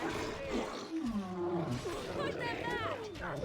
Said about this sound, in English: attack the fucking wolves